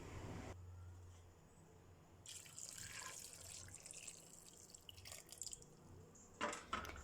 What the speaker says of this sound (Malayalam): നമുക്കതിലേക്ക് ഇത് മൂടുന്ന അത്രയും വെള്ളം ഒഴിച്ചു കൊടുക്കാം